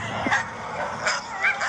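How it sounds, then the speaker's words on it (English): A malfunctioning television monitor in an abandoned cult compound gives off strange yelping, bark-like electronic noises, several short bursts over a steady background hum, fairly close and loud. "the television monitor is making these really crazy like barking noises"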